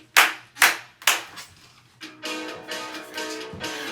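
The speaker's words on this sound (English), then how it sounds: "clap your hands 3 times" Children and an audience at a storytime session clap their hands on cue, three loud, separate, evenly spaced claps close by, followed by a quieter, more scattered stretch of sound.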